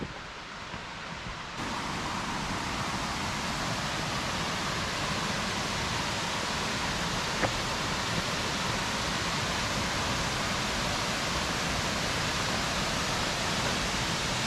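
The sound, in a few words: Long Creek Falls waterfall on the Appalachian Trail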